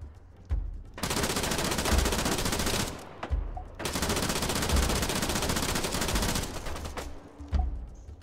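Gunfire in the Arma 3 military shooter: loud, sustained automatic bursts lasting several seconds each, split by brief pauses and a few isolated single shots, with no talking over it.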